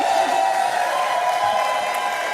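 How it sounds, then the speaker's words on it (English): A graduation crowd at a business school executive programme ceremony claps and cheers in a steady, dense wash, fairly loud and continuous, with a faint tonal hum beneath. "Amazing round of applause."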